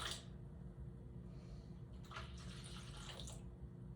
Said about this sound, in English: 375 warm water. And I am pouring this right into my dough.